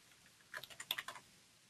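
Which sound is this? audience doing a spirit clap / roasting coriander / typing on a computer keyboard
typing on a computer keyboard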